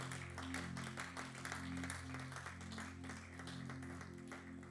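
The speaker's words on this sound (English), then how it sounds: "Give a mighty clap of hands to Jesus." A church congregation claps hands in a steady rhythm at an apostolic service, the claps faint and distant over sustained musical tones.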